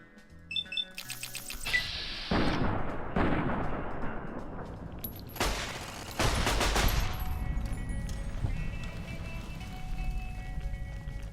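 An automated turret firing in Fallout New Vegas, with sharp bursts of rapid gunfire and electronic game effects amid a steady hum, moderately loud and without talk.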